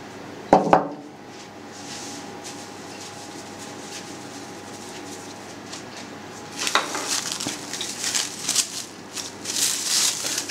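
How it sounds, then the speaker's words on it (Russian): A knife cuts chilled pork fatback into small cubes on a board, starting with a sharp knock, then quieter scraping before a run of rapid, irregular chopping taps close by. "и теперь надо нарезать наш шпик"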